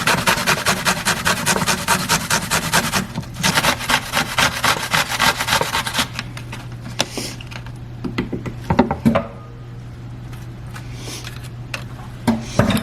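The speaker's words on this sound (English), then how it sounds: "First, we're going to grate up a cucumber." Rhythmic rasping strokes of a cucumber rubbed against a grater for tzatziki sauce, fast and steady at first, then slowing to fewer, scattered scrapes, close and fairly loud.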